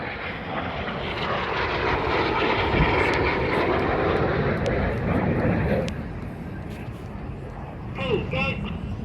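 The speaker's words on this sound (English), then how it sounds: "Each aircraft will perform a 360-degree roll." Red Arrows jets roll 360 degrees at an air show trailing red smoke, a loud, steady broadband roar that eases after six seconds and swells briefly near the end.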